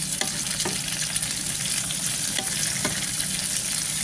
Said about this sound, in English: so now I'm gonna add the red and orange pepper